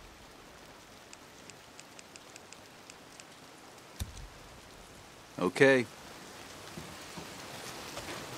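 Steady rain pouring down in the video game Days Gone, an even wash of drops throughout, briefly broken by a short voice and a louder burst of movement partway through.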